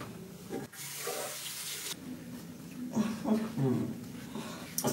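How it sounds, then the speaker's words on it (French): Water runs from a tap for rinsing. It makes a soft, steady splash and hiss under faint speech. "Je vais rincer."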